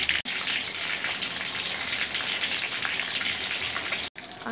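Chicken wrapped in sticky rice deep-frying in hot oil, a steady, dense sizzle and bubbling that runs throughout at moderate level, with no voices over it.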